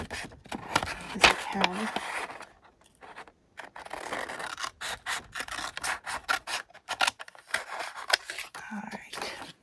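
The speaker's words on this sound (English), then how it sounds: "For this, I think I'm going to do it with scissors." Scissors snip through paper ephemera in a run of short, crisp cuts and rustles, close and fairly quiet, with a person talking over much of the cutting.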